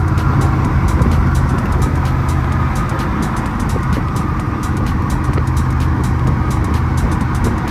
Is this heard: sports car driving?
yes